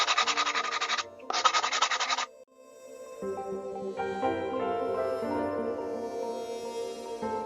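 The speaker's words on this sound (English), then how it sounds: "I'm just going to sand them a little bit" Two strokes of hand sanding on seashell molds, close and raspy, then a quiet pause and sustained musical tones.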